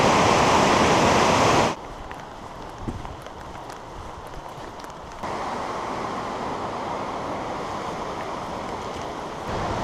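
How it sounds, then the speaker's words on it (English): Rushing water from a waterfall at Watersmeet in Exmoor National Park roars as a steady broadband wash. It drops abruptly quieter after a couple of seconds, then swells back up midway. "Seriously, that waterfall never fails to amaze me."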